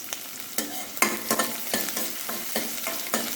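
Onions sautéing in a pan for a Kerala kumbalanga moru curry, a spatula scraping in regular strokes about twice a second over a low sizzle, close and clear with no voices.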